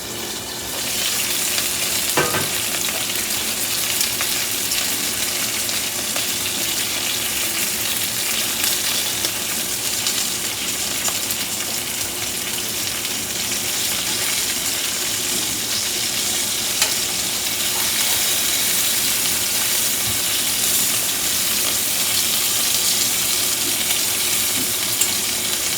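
Chicken fries in a pan for a home-style fried chicken dinner, with a steady, dense sizzle and crackle of oil turned down to low heat, continuing evenly without talk.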